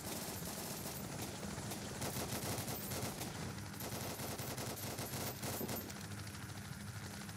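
Sustained rapid automatic gunfire from a military shooter game, Uncreated Warfare, crackling continuously and loudly throughout with dense overlapping bursts and no voices.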